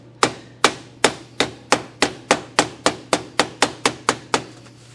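Sheet metal flange on a tapering waste basket struck by a hammer, about fourteen sharp metallic blows in a steady rhythm, close and loud with ringing decay, no talk.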